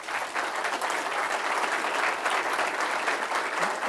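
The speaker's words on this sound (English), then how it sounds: "give these candidates a round of applause." A crowd at a district attorney candidates' debate gives steady, full applause, a dense continuous patter of many hands clapping at even loudness throughout.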